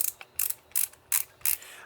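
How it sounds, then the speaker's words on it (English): Ratchet clicks from advancing film in a Falcon Candid 127 camera: five sharp, close mechanical bursts in an uneven rhythm, each a quick cluster of small clicks, with no voices. "That clicking is a ratcheting mechanism that prevents the film from being pulled back in front of the shutter box so that you don't get double exposures."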